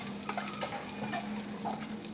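Garlic sautéing in a pan for pork teriyaki, a steady wet sizzle and hiss with faint stirring, running evenly throughout without talk.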